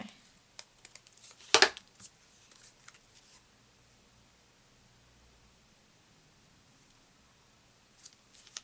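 Paper being handled and stuck onto a scrapbook page: a sharp crinkle and rustle close by, then scattered faint taps and quiet handling noises with long near-silent stretches.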